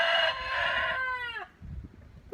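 A homestead rooster crows once, a loud, close, drawn-out call that falls off at the end, followed by faint clucking and barnyard noise.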